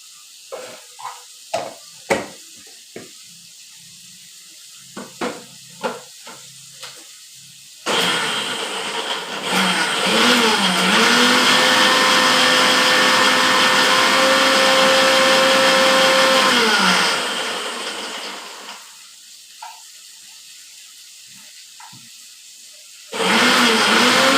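A mixer grinder starts up and runs loudly for about ten seconds with a whining motor hum while grinding for chicken soup, then winds down; scattered kitchen clatter before and after, another burst at the end.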